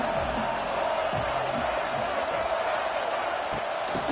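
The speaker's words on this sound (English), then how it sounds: "this crowd is turning it up a notch" Dense stadium crowd roar at a college football game, Washington versus SMU, swelling steadily and loudly throughout with no break, with faint scattered shouts mixed in.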